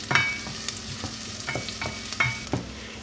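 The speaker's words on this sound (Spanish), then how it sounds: "Agregamos la cebolla y la vamos a sofreír." Onion sautés in melted butter and oil in a pan, with a soft sizzle under repeated scraping stirs that come as sharp, irregular clicks and scuffs a few times a second, with no voice.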